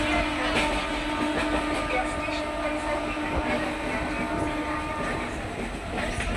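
A local train runs, heard close from on board as a steady, loud rumble with rhythmic rail clatter and no break.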